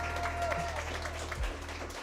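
Audience applause for Bobbi Althoff as she is introduced on a podcast show, steady clapping from a studio crowd, moderately loud and continuous with a faint voice underneath.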